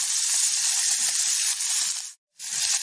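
Onions dropped into hot oil for a jackfruit-seed and greens recipe, a loud steady hiss of frying that fills the clip, broken by one brief silent gap near the end.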